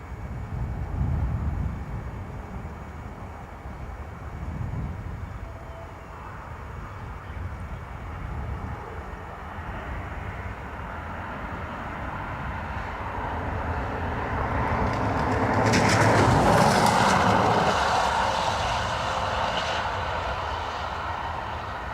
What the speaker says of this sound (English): Pegasus from Istanbul.